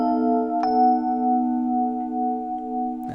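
Sustained augmented chords moving through an ascending cycle, one chord ringing and shifting up to the next shortly after the start, with another change arriving at the very end; clean tones alone, no talking.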